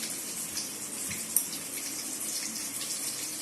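Cut eggplant and potatoes are swished and rinsed in water for a Tamil dried-fish curry, giving a steady, soft splashing and trickling wash with a single small knock partway through.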